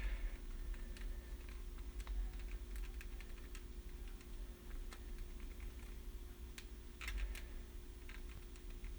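Text typed on a keyboard, apparently through a TV setup; irregular quick key clicks and taps, close and light, over a low steady hum, no speech.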